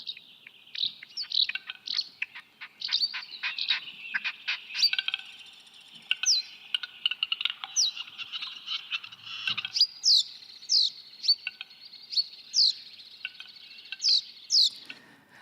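Bright, high bird chirps and trills from a sound installation repeat steadily, with rapid twittering early on giving way to evenly spaced, sweeping whistled calls.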